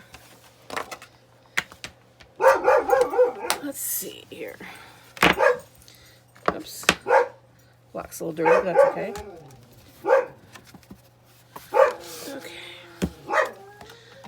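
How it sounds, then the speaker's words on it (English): A dog barks repeatedly in short sharp bursts, fairly close, while a person talks quietly between and over the barks. "Sorry about the barking dog."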